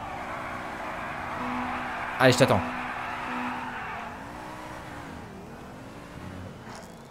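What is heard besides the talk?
cars driving and tires squealing in GTA 5 video game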